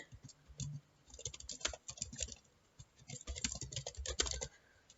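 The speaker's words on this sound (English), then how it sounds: "So I'm going to type that in." Someone types an email address on a computer keyboard, quiet bursts of rapid key clicks in two short runs separated by a brief pause, close by and alone.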